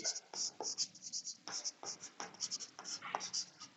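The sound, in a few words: writing on a board during a physics lesson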